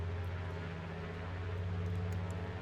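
Twin radial engines of a Grumman Goose amphibian in a flight simulator drone steadily with a deep, throbbing low rumble as power comes up on a low approach, loud and continuous throughout.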